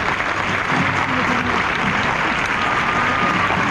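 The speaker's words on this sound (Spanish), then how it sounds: "Con un aplauso para el compañero." Police exhibition audience applauding a guide dog and bomb disposal unit display, steady dense clapping throughout at a consistent loud level, with no voices over it.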